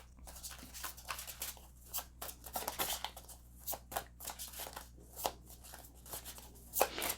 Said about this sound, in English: let's pull some more oracle cards here.